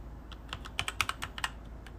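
Typing on a computer keyboard during a livestream, a quick cluster of about a dozen crisp key clicks in an uneven rhythm, close but fairly quiet with no talk.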